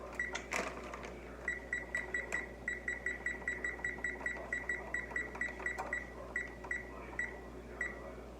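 Kitchen timer being set for 25 minutes while corn bread bakes, a rapid run of short, evenly spaced electronic beeps close by, repeating steadily for several seconds with brief clicks at the start.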